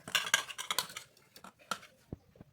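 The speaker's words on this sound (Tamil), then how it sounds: "அப்புறமா மிக்ஸ் பண்ணிக்கலாம்." Omelette ingredients with turmeric, garam masala and salt being mixed with a utensil, a quick run of bright metallic clinks and taps against the bowl that thins out into a few sparse knocks.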